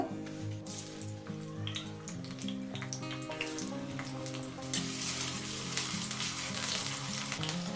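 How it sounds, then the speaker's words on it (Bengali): Medium potatoes frying in hot mustard oil in a wok, a continuous close sizzle with clinks and stirring clatter, a louder burst of hissing partway through, no speech. "এবারে আমি এখানে দুটো আলু নিয়েছি মিডিয়াম সাইজের এটা একটু ভেজে নেব"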